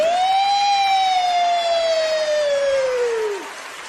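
A voice imitates a police siren with a single long, loud wail that rises briefly, then slowly glides downward before dropping off at the end.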